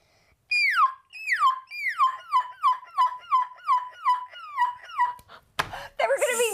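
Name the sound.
children imitating seagull calls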